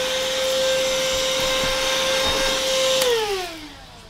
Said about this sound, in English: hoover that up as well